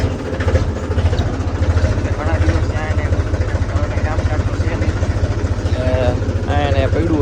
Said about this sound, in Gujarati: તો ચાલો ટ્રેક્ટરને ચાલુ કરી